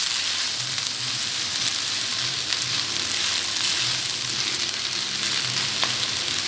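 Cheesy spaghetti with vegetables stirred gently in a pan gives a steady, close sizzle and hiss throughout, with soft scraping and stirring sounds and no talking.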